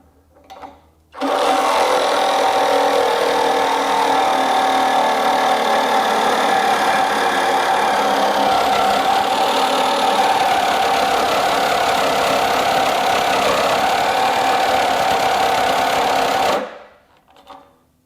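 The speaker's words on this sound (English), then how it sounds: "now I've got a carbide tip thick metal blade, and let's see how well it does now" A SKIL 20V brushless reciprocating saw with a carbide-tipped blade cuts thick metal, giving a loud, steady motor drone and grinding whine for about fifteen seconds, starting and stopping abruptly.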